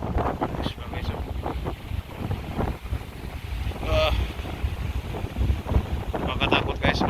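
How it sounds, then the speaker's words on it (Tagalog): Strong wind blowing across a ship at sea, a loud continuous roar buffeting the microphone with gusts, alongside people talking. "lakas ang hangin"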